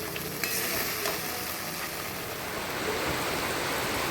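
Garlic tempering for dal sizzles in hot oil, a dense, even hiss that carries faint, quiet and unbroken through the whole stretch without any voices.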